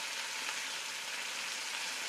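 Scallops sear in hot oil in a pan, giving a steady, close, bright sizzle that holds evenly throughout with no talking.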